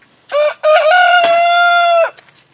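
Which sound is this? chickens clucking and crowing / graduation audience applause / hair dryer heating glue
chickens clucking and crowing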